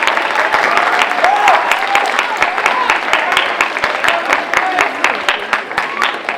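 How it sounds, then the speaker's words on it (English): Audience applause for a speaker telling her story: loud, sustained clapping from many hands with crisp individual claps standing out, while voices murmur and a few whoops rise underneath. "Can we just get another round of applause for her right now?"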